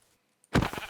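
A single sheep bleat from the video game Minecraft with the Cobblemon mod sounds after a moment of near silence, short and clear at moderate volume.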